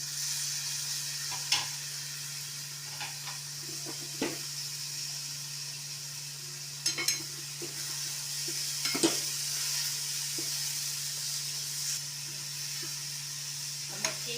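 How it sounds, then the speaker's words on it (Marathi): Moth beans are sautéed in oil with a tomato masala, giving a soft, steady sizzle under a low hum, with occasional sharp scrapes and clinks of a spoon stirring in the pan. "तेलामध्ये चांगली या मसाल्यामध्ये परतून घ्यायचे"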